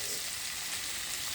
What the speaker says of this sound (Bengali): এখন আমরা একটু নেড়ে দিব।